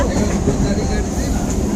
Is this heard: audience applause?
no